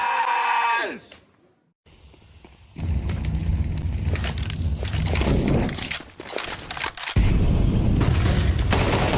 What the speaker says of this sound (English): Little SMG spam from the side of that smoke.